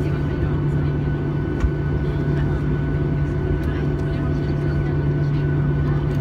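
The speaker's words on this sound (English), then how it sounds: "So all engines are on." A steady, droning hum of Boeing 737-800 jet engines with a strong low tone and broadband roar, constant and unbroken, heard from inside the aircraft.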